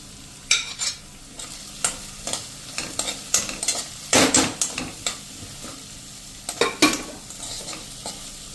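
Carrot pieces stir-fried in hot oil with spices for sorghum pulav, a steady sizzle broken by repeated sharp scrapes and clatters of a spoon stirring in the pan, close and alone.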